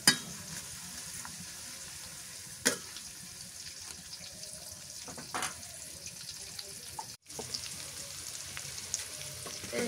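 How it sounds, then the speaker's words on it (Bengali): Onions frying in a pan over a clay earthen stove, cooked until reddish, give a steady low sizzle with a few sharp clinks of stirring, and there is no talk. "পেঁয়াজটা লাল লাল করে ভেজে নেই।"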